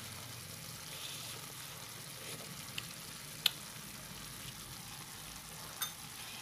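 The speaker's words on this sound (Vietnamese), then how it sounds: "Mình kho nó được khoảng vài 3 phút rồi đó các bạn." Vegetarian young jackfruit braises and simmers in a pot, giving a low, steady sizzle and bubble with a few small clicks, close by and with no talking.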